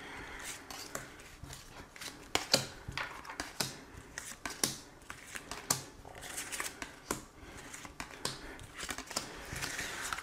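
Tarot cards are shuffled by hand for a reading, close and soft, with a run of quick riffling and sliding bursts and irregular crisp card slaps, no talking.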